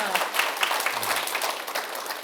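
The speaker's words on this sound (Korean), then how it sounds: "자, 큰 박수 부탁드립니다." An audience at a lecture gives a warm round of applause: brisk, even clapping from many hands, continuous and moderately close, with a light crowd murmur underneath.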